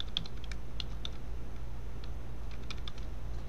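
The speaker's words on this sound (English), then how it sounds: "And then I'm going to type the right motor" Soft, irregular keystrokes on a computer keyboard while setting up EV3 robot programming in RobotC, light clicks scattered over a steady low electrical hum, no talking.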